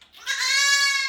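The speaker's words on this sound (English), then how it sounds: "I'm also sorry about the little baby goat in the background." A baby pygmy goat gives a single loud, close, drawn-out bleat lasting about a second, alone with no other sound.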